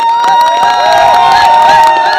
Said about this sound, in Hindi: जोरदार तालियां everyone।